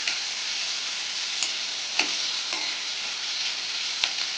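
Onion and capsicum fry in a pan with a steady loud sizzle, with a few light taps of a spatula stirring through it, for a mushroom pepper dry.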